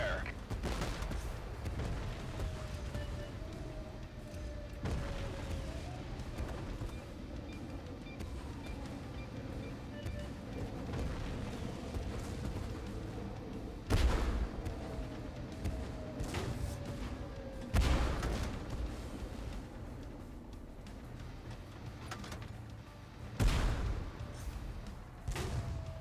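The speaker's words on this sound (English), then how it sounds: "under gunfire." Tank cannon and gunfire boom in the Tank Force game on the Trafalgar Square map with a Phoenix Mk3 tank. Several heavy blasts stand out over a low, rumbling engine bed.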